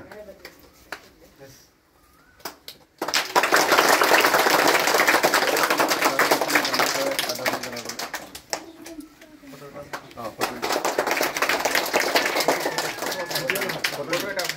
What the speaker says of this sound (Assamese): চবেই হাত চাপৰি মাৰিবা হা